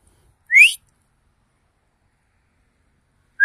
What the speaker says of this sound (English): He likes his whistles.